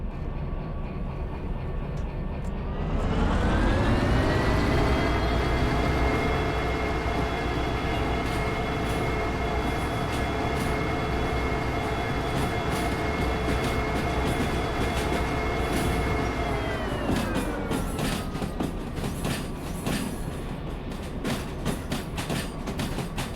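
A locomotive in the Derail Valley train game rumbles steadily at close range, its engine drone rising in pitch as it gets under way, holding a sustained tone, then dropping back with clattering rail noise toward the end.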